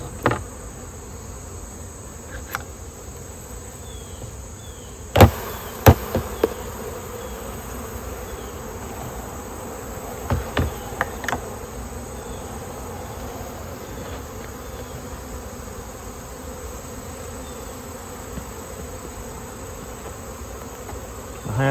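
Honeybees drone in a steady, dense hum during a hive mite check, with scattered sharper knocks and clicks from handling the frames now and then.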